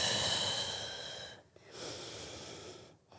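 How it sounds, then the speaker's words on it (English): Deep breathing during a Pilates mat workout with a band and ball: long, steady airy inhales and exhales, close and fairly loud, with two brief pauses between breaths and no talking. "Big inhales and slow exhales here."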